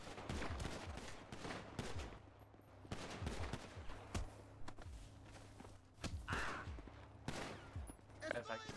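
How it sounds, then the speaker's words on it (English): Bursts of gunfire ring out in a GTA roleplay game, repeated loud cracks and volleys arriving in clusters through the stretch, with a voice speaking over the shooting. "we're getting shot at, boss"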